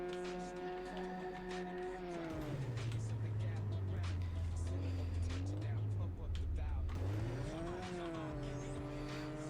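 A car drifts around a track in a racing video game, the engine droning steadily, then its pitch drops and holds low through the slide before revving back up near the end, loud and close.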